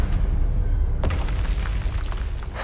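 A Confringo blasting spell from Hogwarts Legacy explodes as a single sharp boom, rolling into a steady low rumble and crackling debris.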